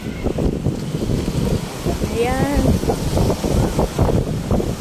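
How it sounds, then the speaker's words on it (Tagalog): Wind blows over the microphone during a boat trip, a rumbling gusty roar under nearby voices of people chatting. "Mahangin. Ang sarap ng hangin."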